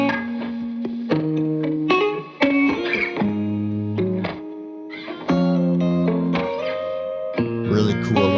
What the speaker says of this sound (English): First thing we're going through is the guitars.